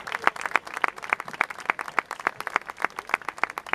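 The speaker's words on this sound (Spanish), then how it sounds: "Para esa gente sí que de corazón os pido un aplauso muy grande" An audience at a Unidas Podemos campaign rally in Loranca, Fuenlabrada claps in a sparse, moderately quiet rhythm, distinct individual hand claps spaced regularly rather than a dense roar, with no talk over them.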